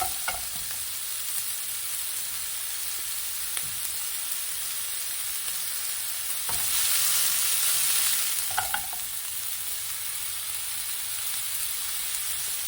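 Köfte meatballs fry in a pan on the stove, a steady close sizzle and hiss with occasional light scrapes of stirring, rising briefly into a louder burst of spitting as they are turned.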